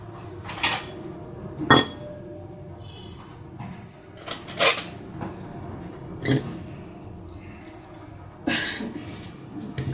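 Tomatoes being chopped for a tempering in a home kitchen, heard as a handful of sharp knocks and clatters of knife and utensils against a board spread across the stretch, with quiet room noise between.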